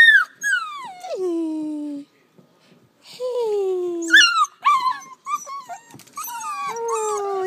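Seven-week-old puppies whimper, whine and yip in a run of high, sliding cries with short pauses, close by and loud, with a little human talk mixed in.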